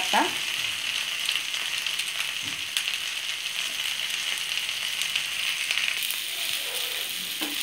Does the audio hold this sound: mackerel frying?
yes